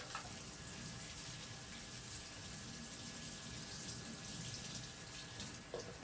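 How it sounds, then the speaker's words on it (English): Water runs steadily from a tap while a scrub brush is rinsed in a salon sink, a continuous even gush with a faint clunk near the end. "we're going to rinse off our scrubby brush"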